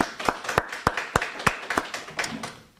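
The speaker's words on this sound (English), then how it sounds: "Let's give them an applause." Applause for third- to fifth-grade award recipients at a school quarterly awards ceremony: around ten even, evenly spaced claps, fairly faint and thin, as from a small group.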